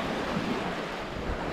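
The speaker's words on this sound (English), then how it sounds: "The waves are coming in quite a bit further than yesterday." Waves wash in along the Isle Royale shore beneath a beached Sunfish sailboat, a steady rushing surf mixed with wind buffeting the microphone, fairly quiet and continuous with no voices.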